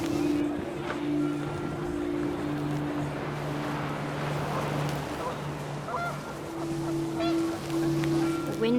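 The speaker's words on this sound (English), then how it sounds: "The wind picked up, and panicked geese appeared and quickly went." Panicked geese honk in the game What Remains of Edith Finch, with steady overlapping calls over a continuous windy outdoor background throughout.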